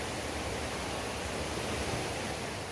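A mountain valley stream at Yumyeong Valley on Yumyeongsan rushes in a steady, dense wash of water noise that holds even and unbroken throughout, with no voices.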